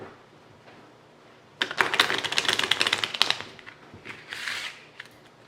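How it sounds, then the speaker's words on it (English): A deck of playing cards being shuffled, heard as a quiet lead-in followed by a fast, dense flutter of riffling cards that fades and then returns in a shorter burst, close and fairly soft, with no talking. "I'm going to shuffle the cards just so you guys can see that they are all mixed up."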